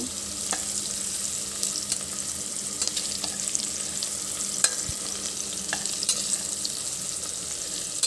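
Cucumber fritters frying in hot oil in a pan, a steady soft sizzle with occasional light stirring clicks and scrapes throughout, no voices.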